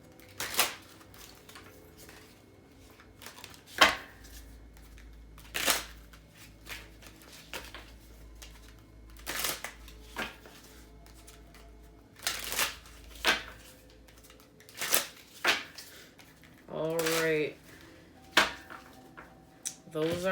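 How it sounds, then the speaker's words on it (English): Tarot cards shuffled by hand in a series of short, crisp riffling bursts spread across the stretch, with faint low-level room noise between them. "we're going to get a quick shuffle on these cards right here"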